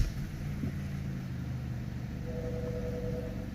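A Kia car engine with a cylinder 4 misfire idles steadily at standstill, a low, even rumble with a constant hum and no revving.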